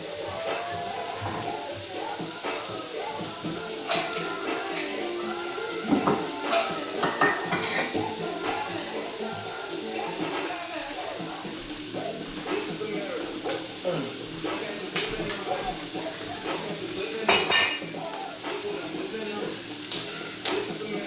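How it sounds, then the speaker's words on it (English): Spiced rutabaga stirred in a pan after water is added, with a soft sizzle underneath and a utensil repeatedly scraping and clinking against the pan close by. "now I'm going to go ahead and add my quarter cup of water."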